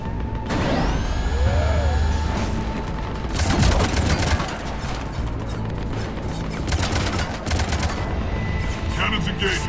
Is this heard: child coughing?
no